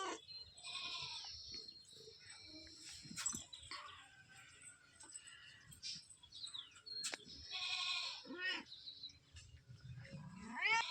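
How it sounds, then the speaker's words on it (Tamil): Two young kittens, their eyes newly opened, mew in thin, high, faint cries that come in scattered clusters, close by and otherwise quiet. "2 பூனை குட்டி இருக்குதுங்க ஃப்ரெண்ட்ஸ்."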